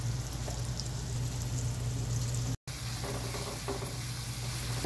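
Onion, ginger-garlic paste and salt fry in a pan for gutti vankaya and mirchi ka salan, a soft continuous sizzle heard quietly and close with a brief gap midway.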